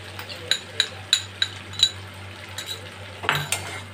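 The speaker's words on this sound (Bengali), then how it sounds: "এই মশলাটাও আমি আলুগুলোর সঙ্গে ভালো করে নেড়ে নেব।" A spice paste is stirred into potatoes in a pan for pumpkin sabji, with a metal spoon clinking against the pan in a quick regular rhythm, then scraping strokes over a faint fry.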